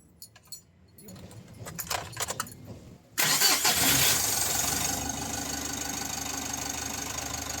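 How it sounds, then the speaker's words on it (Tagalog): A Mitsubishi L300 Euro4 van engine cranks briefly after some faint handling noises, then fires and settles into a loud, steady idle close by, with no talk. "ipa-start ko na itong makina"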